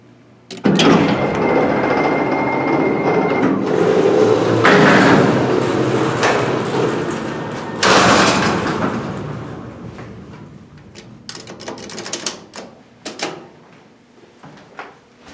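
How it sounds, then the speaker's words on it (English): A modernized Excel hydraulic freight elevator at a mall loading dock runs with clunks, door rumble and sliding metal bangs, loud at first, then easing into scattered clicks and knocks. "This is the now modernized freight elevator at Loading Dock D, King of Prussia Mall."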